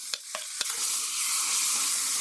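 A few scraping stirs of a spoon give way to a steady, bright sizzle as chopped tomatoes and other vegetables sauté in a hot pan for toor dal masala, close and fairly loud.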